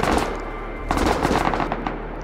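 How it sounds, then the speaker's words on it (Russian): Sustained machine gun fire in the survival game Rust, loud and close, with bursts of rapid shots in an uneven rhythm over a steady low rumble, with no talking. "вот эта стрельба уже раздражает, реально"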